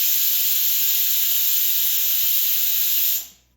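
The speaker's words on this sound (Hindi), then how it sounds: "तो कुकर में विसल्स लगनी शुरू हो चुकी है" A pressure cooker full of cooking tadka vents steam in one long, loud, steady whistling hiss with a high piercing tone, then cuts off abruptly near the end.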